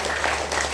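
Brief burst of audience applause in a church congregation, dense clapping filling the space at close range for under a second.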